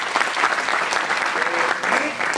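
A crowd at a poetry recital applauds a poet, loud, even clapping filling the room throughout, with faint voices mixed in.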